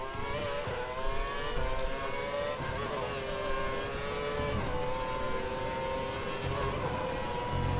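A Formula One race car in the F1 2012 video game at the Valencia circuit holds full throttle, its engine a steady, loud high-pitched whine with slight pitch shifts, running continuously without voices.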